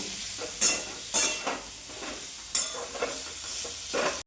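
Steamed, turmeric-coated cauliflower florets sizzle in hot oil in a kadai, with a steady fry hiss broken by several bright scraping stirs of a spatula.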